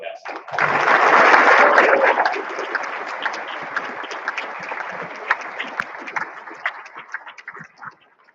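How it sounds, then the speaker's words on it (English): An audience at a keynote event bursts into applause for a U.S. senator, a loud swell of clapping that peaks early, then thins into scattered claps and fades out over several seconds. "Gentlemen, please give a huge round of applause for Louisiana's senior U.S. Senator, Dr. Bill Cassidy."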